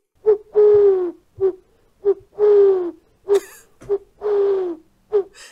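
A person imitating an owl hoot with the voice, a close series of breathy hoots alternating short and drawn-out calls in a repeating rhythm, with no talk over them.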